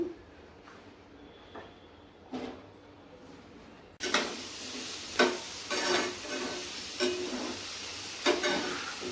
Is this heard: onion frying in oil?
yes